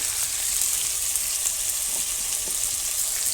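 Potatoes fry in a pan in a village kitchen with turmeric, salt and chili, giving a close, steady, dense sizzle that carries on without a break and with no talking.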